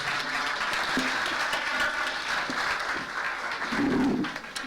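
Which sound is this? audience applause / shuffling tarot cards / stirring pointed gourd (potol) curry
audience applause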